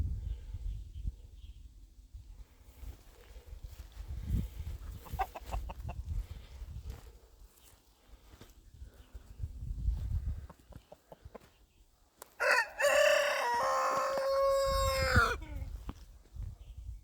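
Chickens and roosters in a Sichuan countryside village, soft scattered clucking followed by a loud nearby rooster crow late on, with faint background noise.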